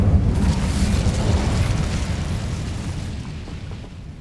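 A fire spell cast in the video game Hogwarts Legacy gives a loud, rumbling roar with a burst at the start that holds steady as a dense whoosh before easing off slightly toward the end.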